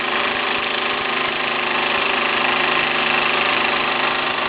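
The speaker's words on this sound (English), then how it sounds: "you can hear the engine juddering or slight stuttering of the normal even pattern and flow" A Mamod SE4 model steam engine running steadily with a slight judder in its normally even beat, a loud, dense, continuous mechanical churning and hiss heard close up, with no voices.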